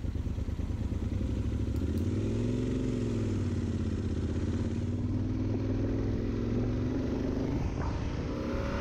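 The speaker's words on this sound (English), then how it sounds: "I'm going to bring the motorcycle to a stop" Motorcycle engine rumbling close by, pitch gliding down and up as it slows, ending with a quieter idle.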